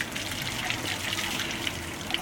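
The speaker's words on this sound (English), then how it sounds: "here's my mom's failed attempt at drinking out of one of the water fountains" Water gushes steadily from a public drinking fountain on a hot summer day in Rome, a constant hissing splash at moderate level with no pauses.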